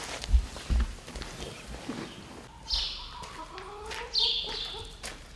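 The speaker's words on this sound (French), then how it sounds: "ce sont nos poules pondeuses que nous élevons ici" Laying hens clucking inside an organic farm henhouse, with several short, fairly close clucks and squawks over a soft rustle and a few thumps of movement.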